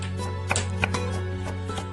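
A knife slices a peeled carrot into thin pieces on a cutting board, making several crisp, irregular chopping taps over a steady low background hum.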